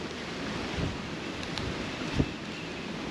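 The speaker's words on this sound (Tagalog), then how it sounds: "Lakas ng hangin sa labas." Steady broadband wind rushing across an open farm field, buffeting the microphone with low rumbling gusts, a couple of stronger bursts, no voices.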